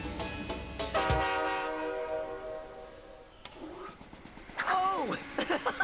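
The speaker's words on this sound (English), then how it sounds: "Choo-choo!" A cartoon steam engine hauling heavy wagons gives a long, bright whistle, followed after a pause by short chuffs and another brief toot, with character voices in between.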